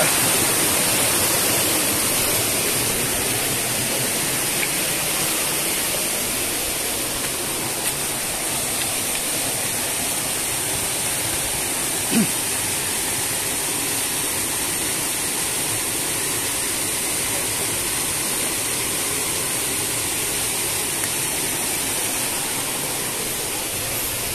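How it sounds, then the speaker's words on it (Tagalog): Bambi Falls, a waterfall in Negros Occidental, roars as a steady broadband rush of falling water, close and loud throughout, with no voices. "Tapos doon sa pinakataas, doon yung falls."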